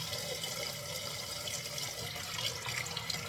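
A sink tap runs steadily while fish is washed, a continuous close splashing of water with small drips and sloshes throughout.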